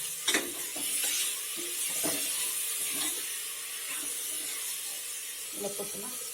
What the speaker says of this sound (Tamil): இப்போ இதில் தக்காளியை சேர்த்து நல்லா வதக்குங்க.